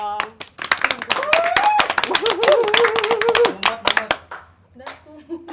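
Quick bursts of hand clapping in a steady rhythm, mixed in with sung or spoken voices in a casual indoor setting.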